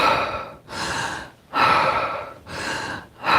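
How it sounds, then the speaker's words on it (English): Deep, forceful breaths taken while running, heard close and loud, each long rush of air separated by short pauses in a steady in-and-out rhythm. "sometimes if I start to get tired, I do what I call 3 deep breaths."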